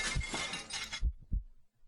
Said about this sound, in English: You flinch harsh at the sound of the door being ripped off its hinges.